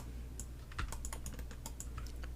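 Rapid computer mouse clicks while working in Autodesk Maya 2019 modeling, a series of light sharp taps at uneven intervals over a steady low hum, close and fairly quiet.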